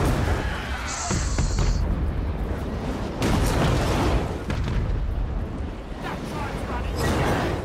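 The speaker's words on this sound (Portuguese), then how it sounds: "Esse canhão é muito ignorante" Cannons fire in the battle game Total War: Warhammer 3, heavy booms rolling out amid continuous battle noise, with someone talking excitedly over the explosions.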